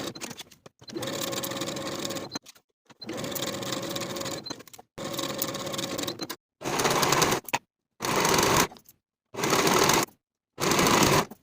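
A sewing machine stitches the shoulder and side seams of a peplum top in repeated bursts, each run of rapid whirring lasting one to two seconds and separated by short pauses, loud and close with no voices.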